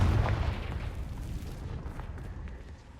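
Confringo blasting spell in Hogwarts Legacy, a sharp explosive burst up front that decays into a lingering crackling rumble and scattered small pops.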